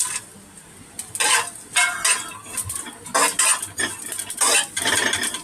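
Onion and whole spices sautéing in a pan, a metal spoon scraping and clinking against the pan in quick uneven strokes over a soft sizzle, close and moderately quiet.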